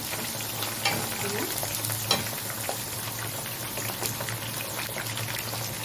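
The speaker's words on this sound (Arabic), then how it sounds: "ادي التومه اهي بتحمر" Garlic frying in oil in a pan for a moussaka dish gives a continuous close sizzle with a dense crackle and occasional sharper pops, steady throughout with no talking.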